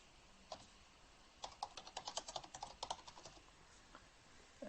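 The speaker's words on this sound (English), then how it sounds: "So I'm just going to type that." Fingers type on a computer keyboard in short bursts of quiet, close key clicks, the taps quickening into a rapid run in the middle, with no talking.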